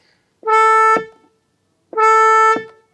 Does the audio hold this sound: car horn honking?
yes